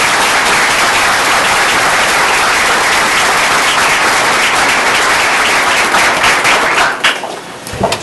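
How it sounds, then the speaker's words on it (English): Audience at a school board meeting applauding, loud sustained clapping that holds steady for most of the span before tapering off near the end, with no talk over it. "let's everyone give them a round of applause."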